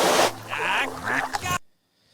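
Duck quacks sound in a short burst of game trailer music for a fishing scene, a few honking calls layered over the music before an abrupt cut to silence.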